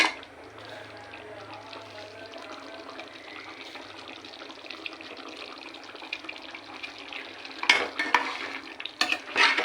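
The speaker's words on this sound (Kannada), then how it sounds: "ಒಂದು 10 ನಿಮಿಷ ಫ್ರೈ ಆಗಲಿ" Boiled chickpeas in chana masala, seasoned with salt, fry in a pan with a continuous close hiss over a low hum, ending in a few louder stirring clatters.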